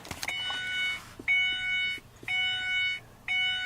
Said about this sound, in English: that beep's annoying, isn't it?